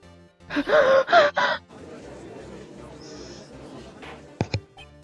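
A sharp gasp from a character in the Phoenix Wright courtroom video game rings out loudly near the start, followed by a quieter stretch of game sound and a brief sharp effect near the end.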